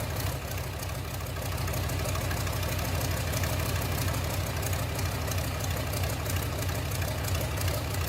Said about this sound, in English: Equipped with a robust air-cooled V10 diesel engine, the T815 delivers exceptional durability and reliability, even in extreme conditions.